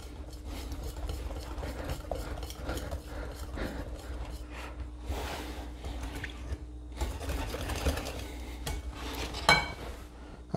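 A spoon or whisk scraping and clinking in a bowl while stirring chocolate financier batter, irregular close taps and scrapes in bursts, with no talk.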